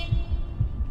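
Quick, fast heartbeat thumps in the horror game The Letter, a low throbbing pulse repeating close and steady over a faint hum.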